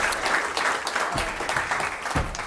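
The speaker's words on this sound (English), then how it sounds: "Please join me in giving a round of applause to our panelists" Applause from an audience for panelists at a presentation on transgender workplace protections, moderate clapping that is fairly even and slightly distant.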